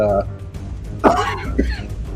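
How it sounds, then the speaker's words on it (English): A person clears their throat and gives a couple of short, rough coughs close to the microphone. "if I end up coughing too much"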